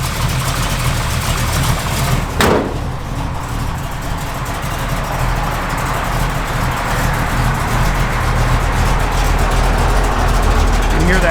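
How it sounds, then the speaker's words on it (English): A 1970 Chevrolet Camaro RS with an aftermarket cam idles loud and close, a steady deep lumpy rumble running throughout, with a brief sharp blip near the start and someone talking over it. "Hear that cam working."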